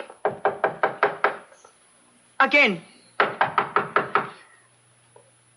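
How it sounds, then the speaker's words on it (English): Two bursts of about six sharp wooden knocks on a door in a radio mystery drama, fairly close and loud, separated by a brief spoken word. "knock on the door"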